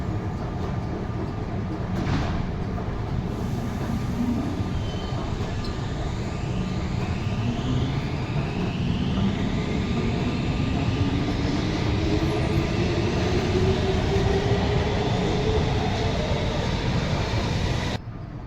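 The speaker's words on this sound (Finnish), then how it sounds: "Esimerkiksi tässä nähtiin M200 pysähty matkalla Vuosaareen niin tässä Hakaniemen asemalla." Helsinki metro M200 train at Hakaniemi station, bound for Vuosaari, runs with a loud steady rumble and rising electric motor whine that sweeps upward over many seconds before cutting off abruptly.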